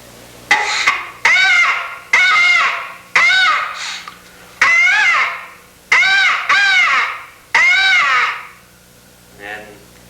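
Loud, harsh caws from a hand-blown crow call imitating a black crow, sounded in a string of about eight bursts with brief gaps, close and alone, ending with a fainter short call.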